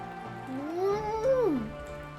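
A cat gives a single drawn-out, plaintive meow that rises and falls, fairly close and clear over a quiet indoor background.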